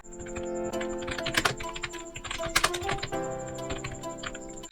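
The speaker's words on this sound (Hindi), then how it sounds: "इसके पास ITI है तो हम ITI भी टाइप कर देते हैं" Computer keyboard keys clicking while resume text is typed, irregular keystrokes close up over a steady tonal hum and a faint high whine, with no speech.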